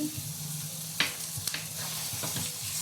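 Chicken frying with spices and kasuri methi being stirred in a pan, a steady close sizzle broken by a few scraping stirs of the spoon.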